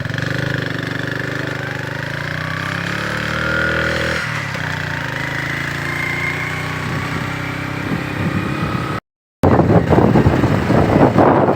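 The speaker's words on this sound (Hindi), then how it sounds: "हम चाहते हैं कि मोटरसाइकिल पे जाएं" A motorcycle ridden out toward the Budgam area; its engine drones loud and close without a break, the pitch shifting slightly as it rides on, then cuts out for a moment before returning rougher.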